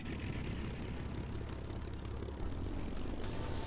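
Propeller aircraft engine drone in War Thunder, a steady low rumbling hum that holds constant and grows slightly louder near the end, with no talk.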